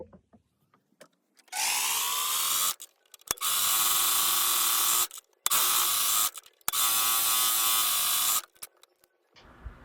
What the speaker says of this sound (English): I do like to serge all the raw edges.